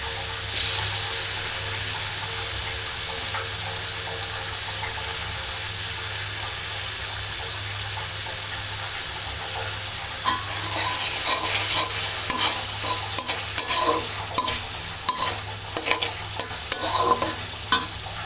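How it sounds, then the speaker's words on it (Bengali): Shrimp stir-fry in a spiced masala for a greens dish, a constant close sizzle that gives way halfway through to repeated rhythmic scrapes and clatter of a spatula stirring in the pan, with no voices. "চিংড়ি মাছ দিয়ে একটু নেড়ে চেড়ে নিলাম।"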